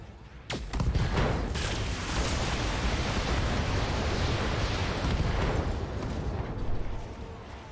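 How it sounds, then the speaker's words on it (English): Ammo explosion destroying an enemy mech in the BattleTech video game: a loud, sustained roaring blast of broadband rumble that swells in after a brief sharp onset and holds for several seconds, no talk over it. "did we just get him with an ammo explosion?"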